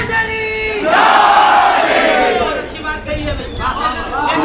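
At a religious gathering at Dargah Hazrat Abbas, a crowd bursts into a loud collective chant of slogans after a lone voice, the roar swelling and fading in waves.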